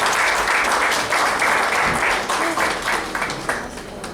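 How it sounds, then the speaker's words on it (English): Audience applause following a speech at a university white coat ceremony in Dominica, dense continuous clapping from a crowd filling the hall, loud and sustained. "Please, can we give a round of applause for that wonderful speech?"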